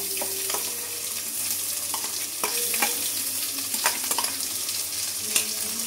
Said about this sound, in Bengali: এরপরে আস্তে আস্তে আমি এটা অল্প লো টু মিডিয়াম ফ্লেমে এটা নেড়েই যাবো, নাড়তেই থাকবো